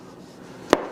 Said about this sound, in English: I'm going to slice that skin part right off and have my first look inside this wonderful tomato